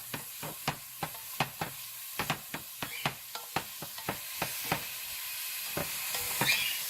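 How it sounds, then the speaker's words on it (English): Vegetables for tomato sauce being stirred in a hot pan: a quiet bed of sizzle broken by a steady run of sharp spoon scrapes and taps against the pan, roughly two or three a second. "for this part, you're gonna be stirring frequently"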